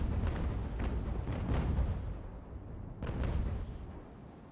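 Sailing warship cannons fire broadside in the naval battle game Ultimate Admiral Age of Sail, a rolling series of heavy booms in quick succession, a pause, then another volley, distant and rumbling with no talk.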